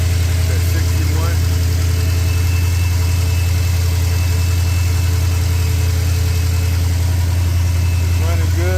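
A 1970 Chevy El Camino fitted with Fitech fuel injection idles steadily close by, its deep, even rumble constant throughout, with faint chirps above it.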